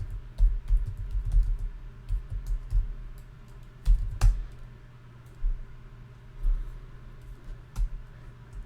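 A password is typed on a computer keyboard while logging into an OpenMediaVault server on a Raspberry Pi, with close, fairly quiet keystrokes in irregular bursts and short pauses between them.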